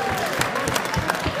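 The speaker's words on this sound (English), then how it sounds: "Just have a round of applause for Paul" Crowd applause at an MMA event, steady clapping with scattered louder claps and some crowd noise, fairly close and continuous.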